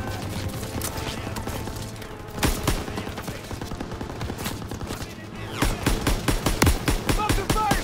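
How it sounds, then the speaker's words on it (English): Machine gun fire in a World War II shooter game, with rapid bursts and a constant stream of close gunshots that grow denser toward the end, under soldiers' shouted voices. "Fire on that MG! Grenade out! Gotta suppress the machine gun!"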